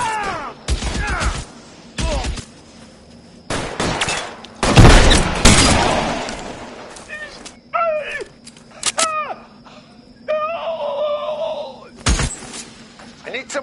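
Video game firefight with bursts of automatic gunfire, single shots and a heavy explosive blast, loud and close, broken by short gaps and followed by clipped metallic weapon sounds; shouted voices come through between the shots.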